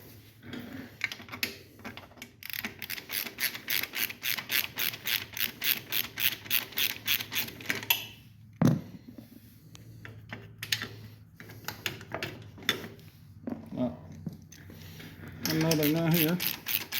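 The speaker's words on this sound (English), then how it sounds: "take your bolts out." Hand ratchet clicking steadily in rapid bursts while exhaust bolts come off during a Banshee pipe install, fairly close and clear, with a brief clank midway and a short stretch of talk near the end.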